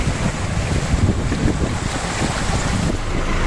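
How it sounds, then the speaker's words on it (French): Strong wind roars steadily aboard a sailboat crossing from the Canaries to Senegal in 24–25 knot winds, with a dense, continuous rush of gusts and sea noise buffeting the microphone, close and loud throughout. "il y a 24-25 nœuds de vent"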